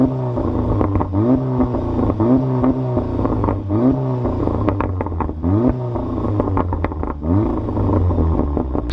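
A Volkswagen Golf R fitted with a Miltech exhaust revs repeatedly outside the car, each blip rising sharply and falling back to a burbling idle, loud and close, about eight revs in a row.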